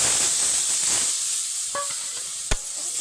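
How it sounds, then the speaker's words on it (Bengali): Spices frying in oil for a hilsa fish curry, a steady soft sizzle and hiss with a brief clink of a utensil against the pan near the end, close and moderately quiet. "মশলা ভালোভাবে কষানো হয়ে গেছে, দেখুন চারদিকে তেল ছেড়ে ছেড়ে যাচ্ছে।"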